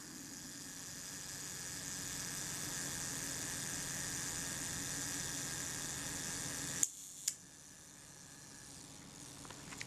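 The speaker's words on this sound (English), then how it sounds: "We'll even set the self timer and see if it'll fire." A Kodak Retina IIIS camera's self-timer whirs steadily for several seconds, then stops abruptly with a sharp click as the shutter fires, followed by a second click and near silence.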